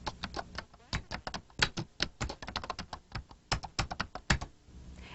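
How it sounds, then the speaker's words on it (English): Fingers type on a computer keyboard in an office word-processing session, rapid irregular key clicks close and crisp, with brief pauses between bursts and no talking. "To enter the text, we simply type Sales Personnel."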